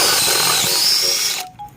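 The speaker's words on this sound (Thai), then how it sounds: "ใส่ดอกเจดีเจาะเหล็กได้" A cordless impact drill drilling into steel whirs loudly and steadily at high speed, then cuts off abruptly near the end, leaving faint tones behind.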